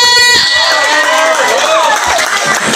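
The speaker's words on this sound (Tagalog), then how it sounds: "Isang palakpakan at may malakas na sigawan." Cheering and shouting from an Easter Sunday church outreach crowd, loud and close, with shrill voices rising over a dense roar of noise for a few seconds.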